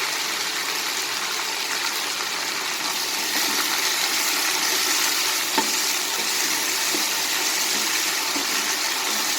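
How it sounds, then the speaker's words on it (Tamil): Mint leaves fry in oil with whole spices for beef keema biryani, making a steady, close sizzle with faint stirring clicks and no speech. "புதினா நல்லா ஃப்ரையாக இருக்குது."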